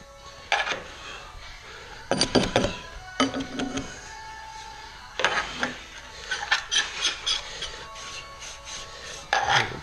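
Carpet fibers rubbed by hand during a carpet-to-tile repair, heard as intermittent bursts of close, coarse brushing and scraping with quiet pauses between strokes.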